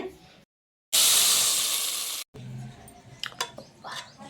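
A loud burst of sizzling hiss erupts as tempering spices hit hot oil for spinach dal, lasting about a second before dying down to faint crackles and clatter.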